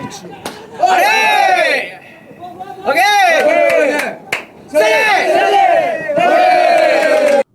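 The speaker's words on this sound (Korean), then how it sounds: "호쾌한 스윙이 경기장의 함성을 부릅니다" Spectators at a high school baseball game in Yeongwol cheer and chant in loud, rhythmic bursts, with sharp slaps or claps between surges and several pauses.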